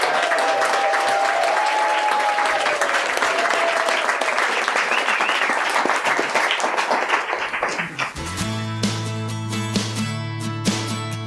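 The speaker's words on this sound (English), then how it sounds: "Let's give our panelists a round of applause." Audience applause for the panelists at a live food and farming event, loud sustained clapping that gradually thins out near the end as music with a low steady tone begins to play.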